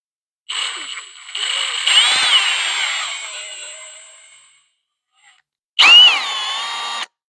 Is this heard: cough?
no